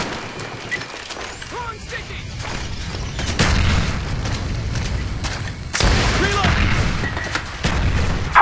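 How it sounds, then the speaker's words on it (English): Napalm strike explosions boom through a Call of Duty Black Ops match, heavy rumbling blasts amid gunfire and game noise, loud and layered over continuous battle sounds. "Friendly napalm strike on the way"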